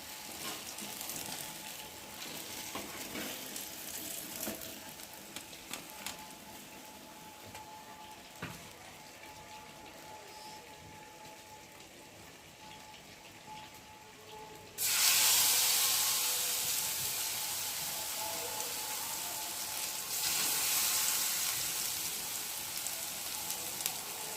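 Chicken pieces frying in oil in a home kitchen pan give a steady, close sizzle that turns sharply louder and brighter about two-thirds through, then holds as a dense hiss with no talking.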